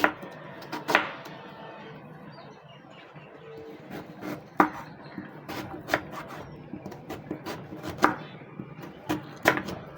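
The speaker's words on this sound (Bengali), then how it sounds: "এখন আমি বিটটা কুচি করে নিচ্ছি।" A knife chops beetroot on a board, giving a run of sharp, irregular taps up close, some in quick clusters, over a quiet room background; no speech.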